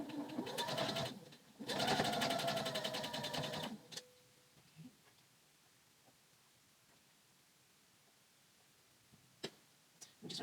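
A sewing machine stitches a narrow hem of less than a quarter inch on Seamwork Joss pants, running in two short close bursts of fast, even whirring before it stops and quiet handling clicks remain.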